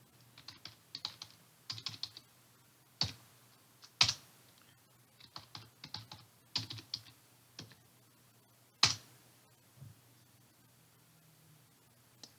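Keys clatter on a computer keyboard as a new password is entered: short, quiet bursts of typing broken by pauses, with a few sharper single key presses, close and alone.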